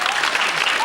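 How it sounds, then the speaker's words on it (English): Studio audience applauding a comedy talk-show stunt after a host takes a blow from a real hammer, dense steady clapping filling the whole moment, with faint voices mixed in. "Oh, no. They're clapping."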